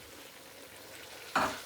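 Masala with curry powder and garam masala being stirred in plenty of oil and ghee, a steady low sizzle swelling into a louder burst of frying as the spoon works through the pan.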